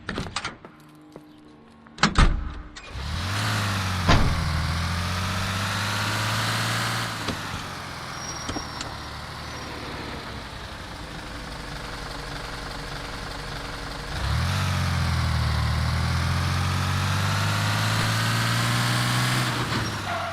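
In-game car engine from L.A. Noire, a steady mid-loud drone that climbs and shifts through gears, with a door-like thud near the start and a surge of revs about two-thirds through; no talk.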